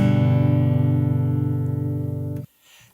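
Open strings plucked together on a guitar's three lowest strings, a sustained low chord ringing steadily for over two seconds before it is abruptly muted, leaving near silence.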